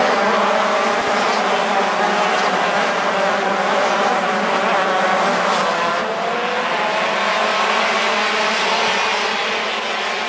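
KZ2 racing karts scream past on the La Conca track during a WSK Master race, a dense, continuous high-pitched engine roar from several machines at once, loud and sustained throughout.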